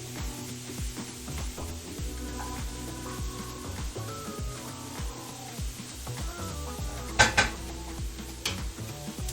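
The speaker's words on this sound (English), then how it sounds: "Make sure we get all that garlic up off of the bottom so it doesn't burn underneath those onions." Garlic and onions stirred in a pot while making Dungeness crab étouffée, with steady scraping and clinking of a utensil against the pot over a low simmering sizzle, plus a couple of sharper knocks near the end.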